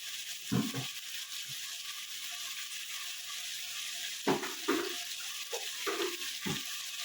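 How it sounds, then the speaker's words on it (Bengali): Water goes into a sizzling prawn dish in a pan, giving a hissing, bubbling rush over steady frying, with a few splashy stirring bursts and no talk. "এটাতে আমি জল দেবো"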